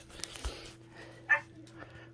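A pet dog gives a brief, faint high whimper amid quiet household background with a few small knocks, close but soft.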